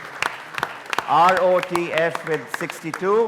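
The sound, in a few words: round of applause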